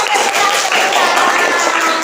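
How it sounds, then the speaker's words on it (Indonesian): Students in a classroom clap their hands together, producing brisk, close, dense clapping that fills the short moment, with voices mixed in underneath. "Ya, tepuk tangan"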